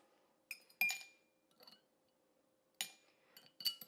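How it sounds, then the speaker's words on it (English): Ice cubes dropped by hand into a cocktail glass while mixing a Halloween drink, giving a few scattered bright clinks and clatters in quick bursts, fairly quiet with no talk. "So we're going to just add our ice directly into the glass for this drink."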